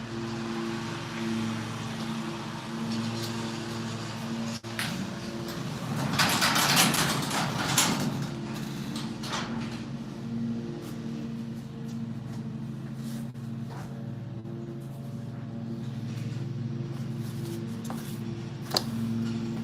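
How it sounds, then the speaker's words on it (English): A rolling door is lowered with a rushing, rattling swell lasting a couple of seconds, set against a steady low hum that runs throughout, with a few small clicks and knocks scattered after. "Let me drop the door down"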